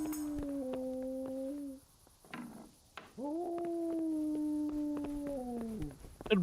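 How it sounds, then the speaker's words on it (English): A dog in the medieval role-playing game Kingdom Come: Deliverance gives two long, drawn-out whining howls, close and clear, with a short rustling pause between them. "El perro este."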